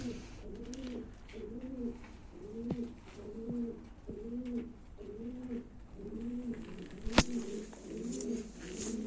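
Nail Kara game pigeons coo steadily in a repeating rolling rhythm, close and clear, with a few sharp clicks and one loud tap partway through.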